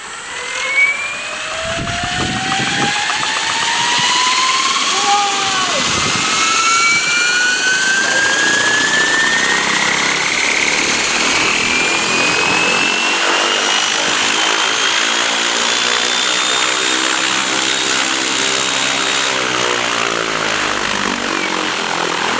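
An Align Trex 700 RC helicopter running on ArduPilot spools up to full flight revs, rotor and motor whine rising steadily in pitch into a loud, sustained high drone with a chopping beat, close by and without talk.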